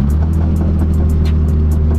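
A Ford Mustang with its resonators and mufflers removed idles with a deep, loud, steady exhaust rumble, close and even, with a faint ticking pulse over the low drone.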